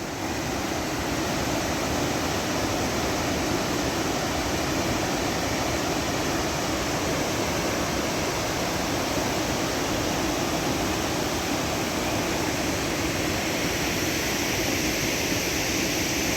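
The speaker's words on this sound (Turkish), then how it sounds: "su sesini duyuyorsunuz belki. Çok güzel bir şelale akıntısı var." Steady, dense roar of rushing water from a waterfall in Tarsus, Turkey, heard nearby, continuous and unchanging throughout with no voices.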